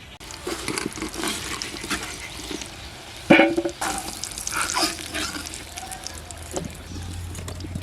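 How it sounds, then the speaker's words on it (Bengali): Potatoes frying in oil for a village-style mutton curry, a continuous close sizzle with stirring scrapes and a brief louder splash of bubbling partway through. "আলুটা লাল লাল করে ভেজে নিয়েছি, এখন তুলে নেব।"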